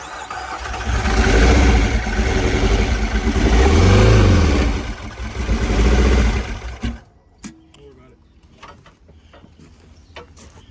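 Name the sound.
car engine running with exhaust problem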